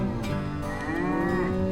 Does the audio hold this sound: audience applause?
no